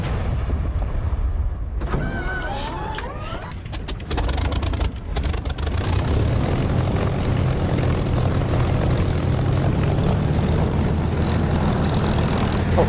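A propeller aircraft engine in the DCS flight simulator throttles up, its droning roar building after a few clicks and switch sounds, then holding loud and steady.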